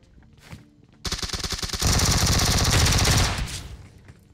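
Shotgun fire in the video game PUBG cracks out as a rapid, close, loud string of shots that builds into a dense burst lasting about two seconds, then cuts off.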